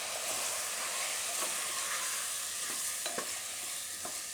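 Spices and salt stirred into hot oil in a pan for a carrot and potato curry give a steady soft sizzle, with a few light scrapes and taps of a spoon, no talking.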